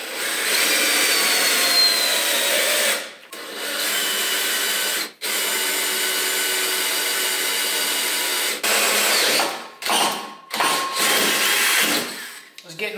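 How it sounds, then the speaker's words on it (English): Power drill boring holes into a thick steel plate welded into a Volvo 240 wagon, a loud steady whirring grind that runs for seconds, stops briefly, then resumes in short bursts. "What I want to do now is drill those holes."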